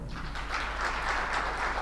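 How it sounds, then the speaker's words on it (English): Continuous applause from an audience at a corporate training session, a dense, even wash of clapping throughout with no break. "So let us welcome Aisha with full applause"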